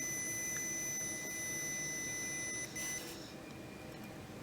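Breathalyzer sounding a faint, prolonged high beep that holds steady for about three seconds before stopping, with only quiet background hiss.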